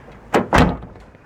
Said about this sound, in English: Check the door closes.